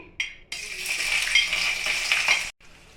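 Chopped onions hit hot soybean oil and crackle into a loud, steady sizzle that runs for about two seconds after a brief first spatter, then cuts off abruptly.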